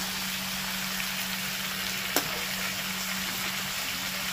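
Chicken frying in hot oil, giving a continuous, even sizzle close by with one sharp crackle midway and no talking.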